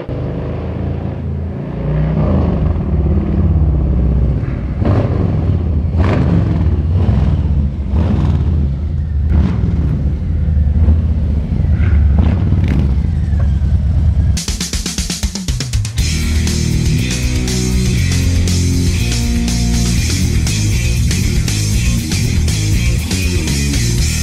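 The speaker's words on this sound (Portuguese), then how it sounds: "Fatboy, a icônica moto projetada por Louie Nettes e Willie D. Davidson em 1990 passa por mais uma grande modificação" A Harley-Davidson Fatboy 114 motorcycle approaches, its engine building from a rumble with rising revs into a loud, close, steady drone that holds to the end.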